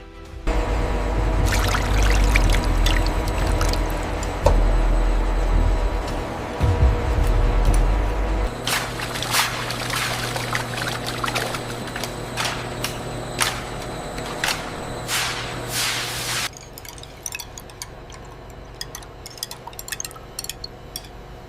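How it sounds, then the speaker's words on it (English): Melted liquid fat pours and flows through industrial filters in a large soap factory, a loud, steady liquid rush with clanking machinery and metallic ticks, then dropping to quieter running flow near the end. "Melted fat passes through industrial filters. Impurities are removed completely. Clean liquid fat flows forward."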